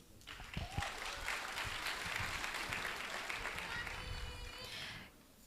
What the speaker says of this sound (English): Can we ask the audience to keep the applauding to the end of each section, please?